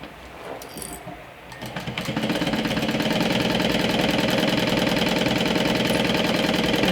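A sewing machine stitches a makeup pouch, starting with a few quiet handling sounds and then running in a steady, fast mechanical rattle at close range for several seconds.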